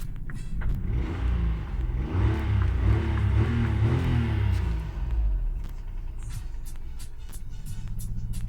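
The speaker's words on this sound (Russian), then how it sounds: "Почему, блядь, стучит этот ебаный движок?" Engine running on a Toyota 1KR-FE that has a knocking fault, a low rumbling idle that swells with a rev and then settles. A steady ticking pulse sounds through the later part.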